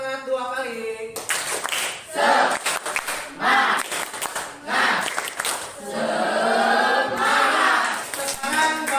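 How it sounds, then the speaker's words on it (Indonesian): A class of students in an Indonesian classroom claps hands together in short bursts between stretches of a teacher talking. "Tepuk semangat 2 kali"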